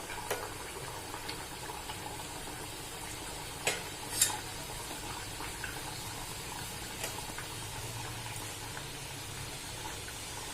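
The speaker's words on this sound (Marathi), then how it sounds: "आपण आता तळून घेऊ. हे बघा, तेल गरम झालेलं आहे." Shegaon kachoris fry in hot oil over a lowered gas flame, giving a faint, even sizzle with a couple of brief louder spatters partway through.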